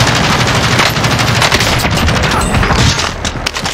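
Rapid automatic gunfire in the shooter Call of Duty: Warzone, loud and sustained with dense overlapping shots and impacts, close and continuous for several seconds.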